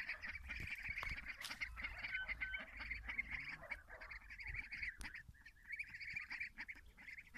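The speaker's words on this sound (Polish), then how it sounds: "Dzisiaj je wyniosłem, wyprowadziłem kaczki i gęsi." Domestic ducks and geese, about seven geese and nine ducks, quack and honk continuously close by in a farmyard, a busy overlapping chatter of calls with occasional knocks and rustles.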